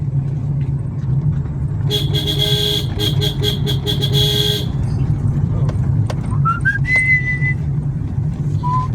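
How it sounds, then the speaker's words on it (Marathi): On a ghat road between Sapteshwar and Sangameshwar, a vehicle horn gives a salute as a quick run of loud, clipped honks over a steady engine drone, followed by a few fainter tones. "विजय सलामी देऊया हॉर्नच्याद्वारे"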